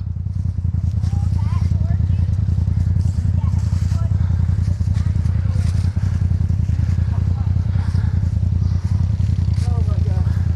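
Pit bike motorcycle ridden outdoors, a steady, loud buzzing engine drone that runs throughout with little change in pitch.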